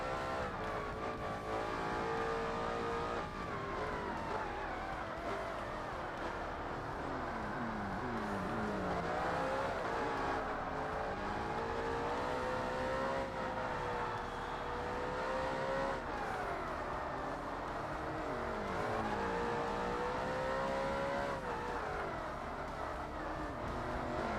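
A Toyota Supra race car engine in the Forza Motorsport video game drones loudly and continuously, its pitch sweeping up and down through gear changes and corners, heard alone without talk.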